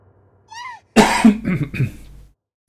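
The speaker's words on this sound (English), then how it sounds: "Apologize for the coughing." Two or three harsh coughs close to the microphone, preceded by a brief high wavering cry, with no talk.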